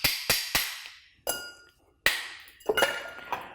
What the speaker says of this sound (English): And then we're going to do a little ice cracking.